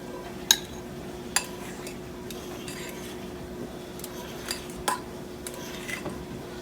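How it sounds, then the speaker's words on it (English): A spatula folds a yogurt and egg mixture for keto cloud bread and scrapes the sides of the bowl: soft, continuous scraping with a few sharp clinks against the bowl over a faint steady hum. "You're just going to scrape around the sides and fold it over until you get it mixed pretty well."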